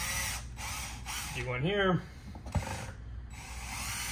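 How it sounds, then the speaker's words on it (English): A power drill bores a starter hole into a hockey skate blade mount, whirring and rising in pitch for a short burst, close and fairly loud, over a steady background hum with someone speaking briefly. "I'm gonna drill a starter hole here"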